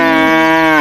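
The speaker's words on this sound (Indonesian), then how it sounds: "Wih, sapi teman-teman." A single loud, close cow moo from an animal cleaning video game, held steady for under a second before dropping off at the end.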